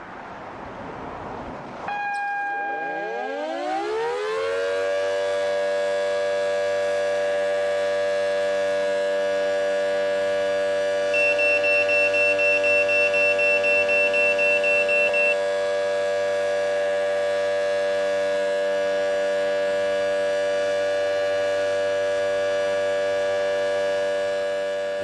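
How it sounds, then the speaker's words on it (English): A volunteer fire brigade's civil defense siren winds up from low to a loud, sustained wail and holds steady, joined briefly by a high beeping of pagers. "When the siren sounds and our pagers beep"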